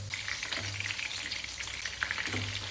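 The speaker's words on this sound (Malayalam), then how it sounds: "ഇത് ഫ്രൈ ചെയ്യാനാണ്, അതുകൊണ്ട് വാരിക്കോരി എണ്ണ ഒഴിക്കുക" Chicken strips deep-fry in plenty of sunflower oil, a busy, bubbling crackle with fine spattering pops. The sound is steady and close throughout, with a low hum underneath.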